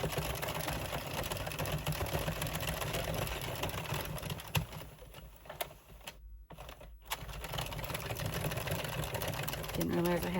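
An Addi or Sentro circular knitting machine is cranked continuously while a poncho is knitted in yarn, giving a steady, close mechanical whirring and clicking with a brief pause near the middle. Speech is present alongside it.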